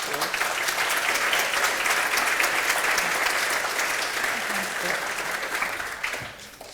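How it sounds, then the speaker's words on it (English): Sustained applause from a large conference audience for a keynote panel, steady and full for several seconds before tapering off at the end. "if we can give our panellists a round of applause"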